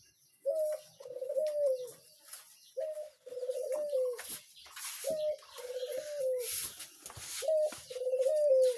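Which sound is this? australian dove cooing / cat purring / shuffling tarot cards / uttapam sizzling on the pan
australian dove cooing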